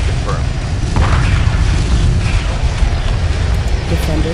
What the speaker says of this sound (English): Heavy fire confirmed.